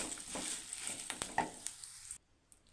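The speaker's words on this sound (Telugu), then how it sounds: "మనం మిక్స్ చేసుకున్న ఈ మిశ్రమాన్ని కూడా వేసుకొని ఒకసారి కలుపుకోవాలి" Spice mixture being stirred into stuffed bitter gourd frying in oil, a steady sizzle with scraping spoon strokes and a few clinks, close and fairly soft, cutting off near the end.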